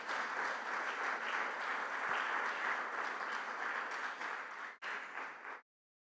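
A church congregation claps loudly and steadily together in dense applause for nearly five seconds, breaking off briefly before a final burst that stops abruptly.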